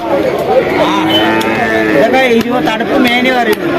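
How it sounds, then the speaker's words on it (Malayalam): Two buffalo calves moo repeatedly at close range, their calls loud and drawn-out, with faint voices and farmyard noise underneath. "എന്തൊക്കെ പോത്തുകുട്ടിയൊക്കെ അല്ലേ എരുമക്കുട്ടി അപ്പത്തെ രണ്ട് എരുമ കുട്ടികളാ"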